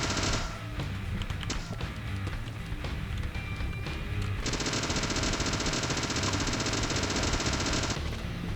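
Gunshots in the video game Deadly Premonition, a dense run of rapid, repeated shots over continuous game music and noise, steady and loud throughout with no pauses.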